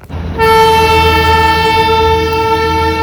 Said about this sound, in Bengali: এখন আমরা সেই টয় ট্রেনই ক্রস করছি আমাদের হোটেল